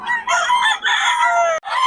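A wet rooster crows loudly and close by in two drawn-out calls separated by a brief gap, in Bocaue.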